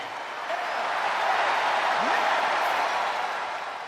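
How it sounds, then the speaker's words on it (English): Arena crowd roars steadily in WWE 2K26 as the World Heavyweight Champion enters, a broad sustained wall of cheering that swells and holds for a few seconds without distinct chant rhythm. "As the crowd chant yeah to the mega star tonight."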